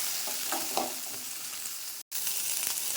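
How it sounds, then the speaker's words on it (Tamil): Small onions (shallots) fry in oil in a pan for a South Indian chana dal chutney, giving a continuous soft sizzle with light crackling and one very brief gap in the sound. "இப்போ சின்ன வெங்காயம் வதங்கிட்டு இருக்குது"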